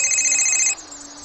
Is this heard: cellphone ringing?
yes